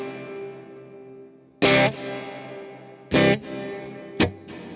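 An electric guitar played through a Universal Audio Ox amp setup with reverb: three loud strummed hits and a short stab, each leaving a long shimmering decaying tail, with no talking.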